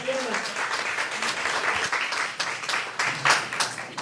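Clapping for the Mariachi Halcón musicians at a Day of the Dead press conference honoring lives lost in ICE detention, moderate and uneven, with a voice speaking over the applause throughout.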